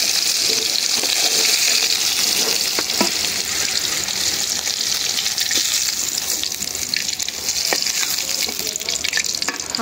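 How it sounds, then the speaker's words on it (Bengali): Fresh fish fries lightly in a pan, a continuous close sizzle and crackle of hot oil that holds steady throughout, with occasional sharper pops. "হালকা করে ভাজা দিলাম"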